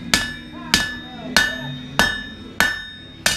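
Six sharp, evenly spaced hammer blows ring out as knife steel is forged flat on an anvil at a blacksmith demonstration, each strike loud and close with a metallic ring decaying between hits.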